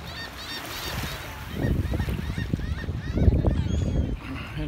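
Seagulls call with squawks and honk-like cries near a dock in Curaçao, rising in bursts over steady harbour background noise.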